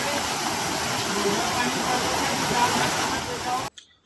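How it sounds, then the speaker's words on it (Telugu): A small waterfall beside the Gupt Bheemashankar shrine rushes in a loud, unbroken roar close by, then cuts off abruptly. "దాని పక్కనే చిన్న వాటర్ ఫాల్స్ కూడా చూడవచ్చు."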